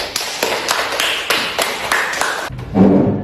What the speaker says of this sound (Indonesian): Beri tepuk tangan untuk temannya.